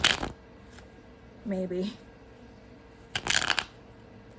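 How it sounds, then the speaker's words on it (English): Shadowscapes Tarot cards shuffled by hand: two short, crisp riffling bursts at the start and near the end, close and fairly loud, with a single brief spoken word in the quiet gap between. "She shuffles super well that I'm gonna do it twice."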